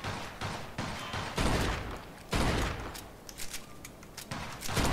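Rapid bursts of gunfire from the Mafia 2 video game during a jewelry store robbery, loud repeated volleys with short pauses between them.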